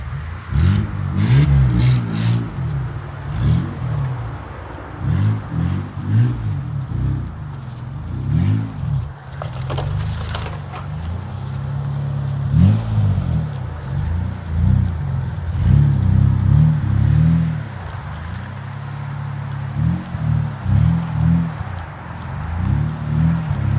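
Pickup truck engine revs repeatedly while a snow plow is being tested, loud and close, rising and falling in a steady pattern of surges with some clatter, and no one speaking.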